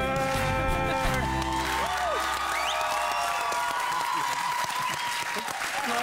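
A live studio audience bursts into loud, sustained applause for a singer after his song, with cheering and whoops over the steady clapping.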